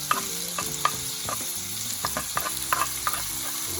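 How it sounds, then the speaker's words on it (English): Bacon bits sizzle in a hot olive oil pan, a steady crackling fry with stirring scrapes and occasional clinks throughout, close up and with no talking. "Yeah, hear that sizzle straight away"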